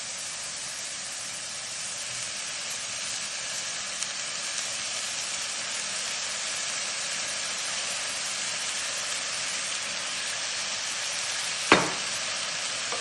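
Onion fries in olive oil alongside chicken in a pan, giving a steady, moderately quiet sizzle and hiss throughout, with a single sharp knock near the end.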